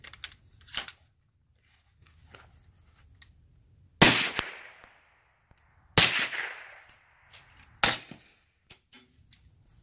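A suppressed Q Honey Badger rifle fires supersonic and subsonic rounds: three sharp, loud shots about two seconds apart, each with a short decaying tail, and faint clicks in the quieter stretch before them.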